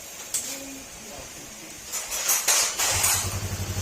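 A repaired motorcycle engine with a replaced crankshaft is started after a few faint clicks and settles into a close, rapid, pulsing idle, with some talk in the background.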